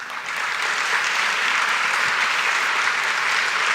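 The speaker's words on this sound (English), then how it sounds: "applause." A room applauding chamber of commerce board members, past chairmen and executive committee at a morning coffee meeting: dense, even clapping that builds quickly and holds steady.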